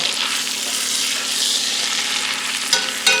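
Meat browning in a hot frying pan in a home country kitchen gives a steady, close sizzle and crackle throughout, with two short clatters near the end.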